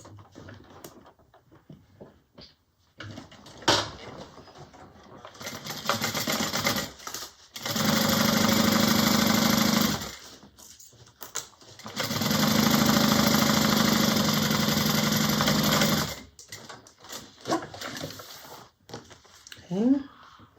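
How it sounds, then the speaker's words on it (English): A home sewing machine stitches a quarter-inch seam on a fabric bag in two steady runs of motor whir, each several seconds long, separated by pauses with handling noise and a little talk. "So this gets sewn at 1/4 inch seam allowance."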